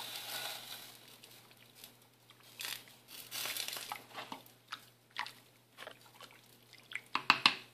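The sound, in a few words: stirring pot of menudo with salt and oregano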